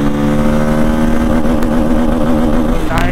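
Bajaj Pulsar N250 motorcycle accelerating hard through the gears on a top-speed run, a steady loud engine drone rising in pitch, with wind rush and a brief shift near the end.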